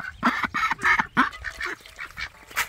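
A mother duck with an injured leg, her ducklings nearby, quacks in a rapid run of loud, close, raspy calls with short gaps, alone without talk.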